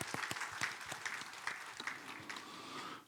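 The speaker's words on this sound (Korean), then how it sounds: "지켜주신 우리 하나님께 감사의 영광의 박수 한번 올려드리도록 하겠습니다." A church congregation gives a round of applause during a Christmas thanksgiving service at Daegu Dongsung Church: sustained, fairly distant clapping from many hands across the hall, with some individual claps standing out.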